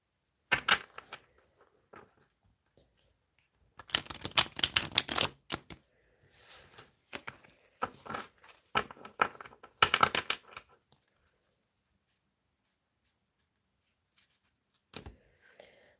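Several bursts of tarot cards being riffled and shuffled close up for a reading, separated by quiet pauses, ending with one short final shuffle.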